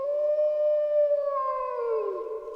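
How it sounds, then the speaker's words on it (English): A single long, drawn-out howl echoes from a canyon, a sustained wavering tone that slides lower toward the end, loud and alone. "I can hear him, Foxy the Pirate, howling for the depths of the canyon"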